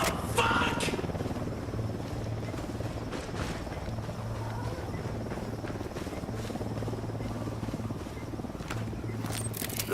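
A drone takes off in a video game with a steady, close rotor buzz and hum that holds constant for the whole stretch, with faint background game noise.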